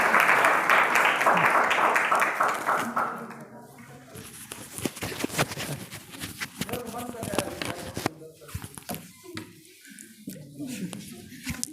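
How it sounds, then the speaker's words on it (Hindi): An audience at a school Constitution Day event gives a loud burst of clapping to welcome a student speaker. It fades after a few seconds into shuffling, scattered knocks and murmuring voices. "जोरदार तालियों से स्वागत करें इसका"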